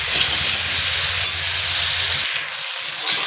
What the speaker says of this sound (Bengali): এইভাবে আমি কিন্তু সুন্দরভাবে ভেজে নিচ্ছি আলু বেগুন